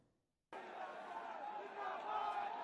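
A large crowd at a 2017 Samajwadi Party election rally in Faizabad with Akhilesh Yadav makes a dense, continuous roar of voices that starts abruptly after half a second of near silence and stays steady.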